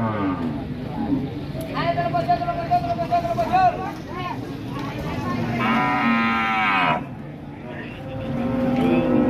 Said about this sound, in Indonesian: Dapat Lemosin Cross ya. Indukan Lemosin Cross bunting atau hamil.